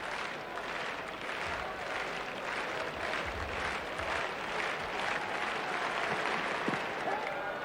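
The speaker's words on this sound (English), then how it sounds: "Slow hand clap for the New Zealanders." A cricket crowd claps continuously at a 1982-83 World Series Cup match between Australia and New Zealand, a steady, distant wash of applause with no distinct slow rhythm standing out.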